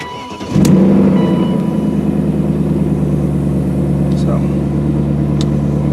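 A 2000 BMW M5 engine cranks and catches, then settles into a steady, rumbling idle that runs loud and close for several seconds.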